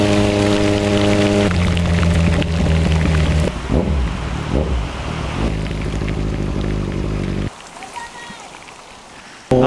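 Heavy rain pours down on a Kawasaki Z1000 motorcycle ride, a loud continuous rush with a steady low drone beneath it that drops away abruptly near the end.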